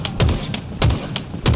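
Bandit Rifle firing in a Halo video game, three evenly spaced, punchy single shots at close range, each with a sharp crack and low thump, no voices.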